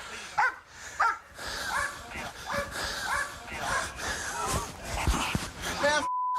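A dog barks and whimpers in short, repeated yelps and whines during a police encounter, mixed with people talking and gasping nearby, ending in a brief electronic tone.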